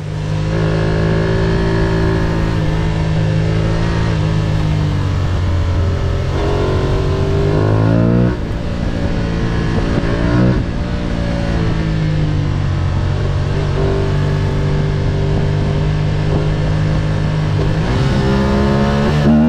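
An Aprilia Tuareg 660 motorcycle ridden on winding Sardinian country roads, its mid-range engine droning steadily and loudly up close, rising and dropping in pitch through several gear changes, with no talk.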